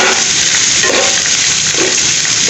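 Onions frying in a pan for pepper chicken varuval, a steady loud broadband sizzle that holds for the whole stretch, with faint stirring scrapes underneath and no voices.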